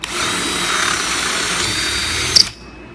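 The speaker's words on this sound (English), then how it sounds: "Here's a 5/16 drill bit so the hooker can turn on the inside, and I'm just going to drill through this piece on the corner" A power drill with a 5/16 drill bit bores through the corner of a piece, a steady high whine held close for over two seconds, ending with a couple of sharp clicks before cutting off to quiet.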